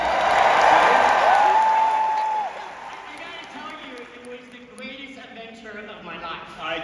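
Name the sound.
crowd cheering for Indiana Jones fans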